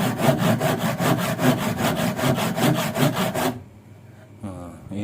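A very blunt hand saw cuts through wood in steady, rapid back-and-forth strokes, loud and close, before stopping abruptly and leaving a brief quiet stretch with faint handling noise.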